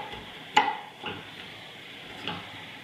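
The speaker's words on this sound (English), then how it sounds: "They're adding flavor to the dish and they're sauteing with the meat to add that flavor in with it all" Sausage and leeks sauté in a pan over medium-high heat, a steady close sizzle broken by a few sharp clatters as the pan is tossed.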